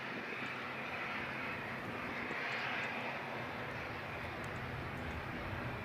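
An ATR airplane at Edinburgh airport sends out a continuous, even engine roar with a whining edge that stays level for several seconds, alone without speech.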